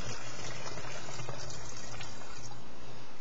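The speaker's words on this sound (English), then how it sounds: "I'm going to pour this liquid into the next bottle." Sanitizing liquid pours steadily through a funnel into a bottle during home beer bottling, a continuous close gurgling, splashing fill that stays even for its few seconds.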